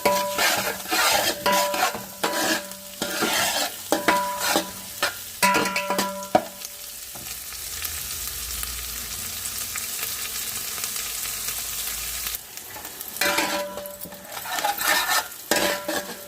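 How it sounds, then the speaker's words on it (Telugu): Onions and curry leaves frying in a pan for chicken mandi biryani, sizzling steadily while a utensil stirs and scrapes in repeated bursts, with a quieter stretch of plain sizzle in the middle. "ఉల్లిపాయలు బాగా వేయిపోవాలి ఎర్రగానే."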